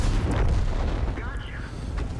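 Artillery fire in the tank game World of Tanks rumbles as low booms and bursts beneath steady talking, with no single blast standing out clearly.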